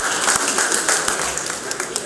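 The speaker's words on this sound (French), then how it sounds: "je vous demande d'applaudir" Guests at a memorial gathering in a catering hall clapping, a dense, loud burst of applause with some distinct claps standing out.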